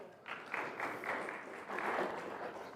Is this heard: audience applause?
yes